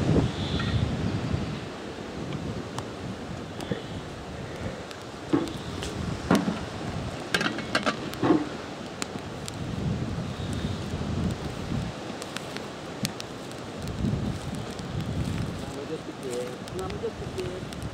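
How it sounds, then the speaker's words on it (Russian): Gusty wind rises outdoors at a riverside camp as a rain cloud approaches, buffeting the microphone and rustling foliage in a steady roar with stronger gusts. "Какая-то тучка, ветер поднимается."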